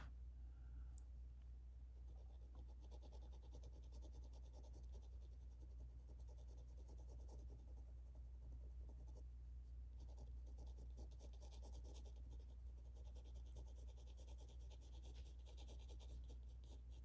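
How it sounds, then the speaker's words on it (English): Graphite pencil scratches steadily across grainy drawing paper in a quiet room: soft, continuous rasping strokes heard up close and alone. "You hear a lot of pencil scratching"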